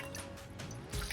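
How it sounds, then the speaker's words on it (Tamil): Water wrung out of a muslin cloth while making Kasi halva, dripping and trickling close by in a soft, steady patter that thickens into a brief splash near the end. "இந்த மஸ்லின் கிளாத்தை ஃபுல்லாக க்ளோஸ் பண்ணி இந்த வாட்டரை நல்லா பிழிஞ்சு எடுக்கணும்"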